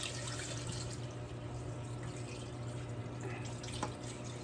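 Liquid drains off fresh mozzarella curd in a steady, close trickle of running water that continues without a break and without talk.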